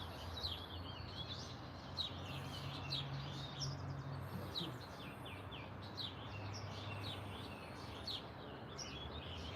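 Birds chirp outdoors on a scenic morning, with faint, repeated high tweets scattered over steady background noise and no one talking.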